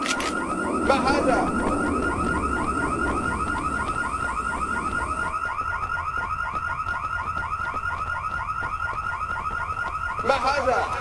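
A rapid, repeating electronic alarm blares from a base compound in the video game IGI 2, looping steadily and loud throughout, with muffled game voices beneath it early on.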